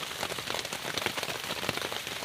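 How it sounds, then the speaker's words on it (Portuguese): Steady rain falls at a solo campsite, a dense, even patter of drops on surfaces with no voices over it. "E tome mais chuva."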